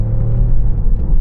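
A BMW X5 engine in sports mode makes a loud, steady low rumble with a faint rising whir inside the cabin under acceleration, with no talk.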